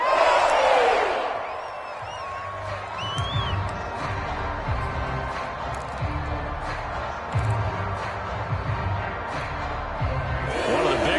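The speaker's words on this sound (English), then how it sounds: "the crowd getting into it" Football video game stadium crowd roars and cheers throughout, dense and steady with swells, under faint low thumps.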